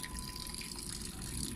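Water runs steadily into the drum of a top-load LG washing machine, a continuous close rushing and splashing flow with no pauses and no voices.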